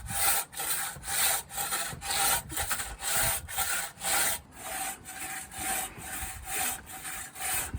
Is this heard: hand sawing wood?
yes